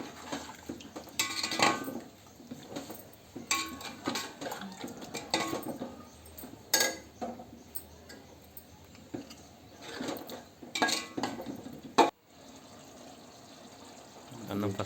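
A pot of boiled mutton and water is stirred while cooking mutton biryani at home, giving scattered metallic scrapes and clinks of spoon on pot in irregular bursts, with some talking.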